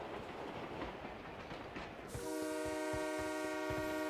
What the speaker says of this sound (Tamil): ஓ பாருங்க ப்ரோ, ட்ரெயின் இங்கே தான் வருது.